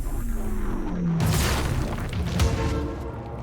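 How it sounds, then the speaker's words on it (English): A time explosion goes off in the Quantum Break video game, a loud, dense booming blast with a descending whoosh, heard over continuous game noise. "All right, now my time explosion is ready."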